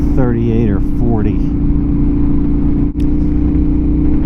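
Motorcycle cruising along Utah highway 24 near Capitol Reef National Park in cold weather, a steady droning engine note with heavy wind rush, close and continuous, with two brief rising tonal sweeps near the start.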